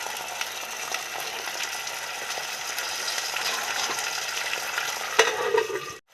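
Chopped tomato, onion and green chilli sizzle steadily as they sauté in a pan for a spicy Tamil-style fish curry, a dense frying hiss broken by a sharp stir near the end before cutting off.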